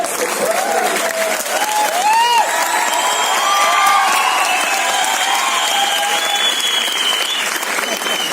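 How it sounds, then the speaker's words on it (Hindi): A hall audience at a motivational business seminar applauds loudly and continuously, a dense wash of clapping with some cheering and voices mixed in, close and sustained throughout. "देखो अपने उस पे भी ताली बजा रहे हैं।"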